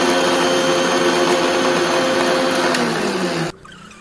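A kitchen mixer grinder whirs loudly and steadily as it powders lightly roasted poha in its jar, then cuts off abruptly near the end, leaving a quiet room.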